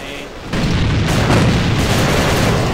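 A grenade explosion in the Counter-Strike video game, a loud boom that swells and then stays as a sustained roar of dense, rumbling noise for several seconds.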